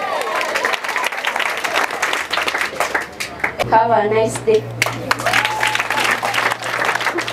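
Applause from students at a secondary school candidates' retreat at Mima Gardens, a loud, dense crowd clapping that carries on steadily throughout, with a speaker talking over it and a low hum joining partway.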